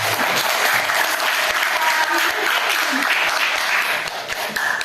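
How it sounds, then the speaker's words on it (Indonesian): A classroom audience claps together, producing steady close applause of many hands that lasts the whole moment without a break. "Oke, give applause"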